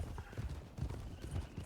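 Horse hooves clop at a brisk, even rhythm in the Western roleplay game RedM, close and moderately loud with a faint whinny-like tone, while voices talk in the background.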